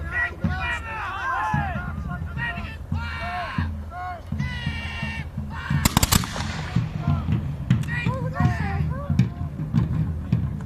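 Musket volley at a 17th-century battle reenactment, a rapid ragged burst of shots around the middle amid crowd chatter, with scattered further reports and voices before and after.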